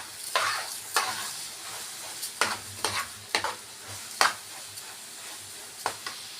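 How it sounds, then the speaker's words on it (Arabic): A spoon stirs a sautéed stuffing mixture with salted, peppered onion in a pan, giving a steady sizzle broken by repeated sharp scrapes and clinks at an irregular pace, close and clear with no talking. "نقلب كل ده بقى كده مع بعض"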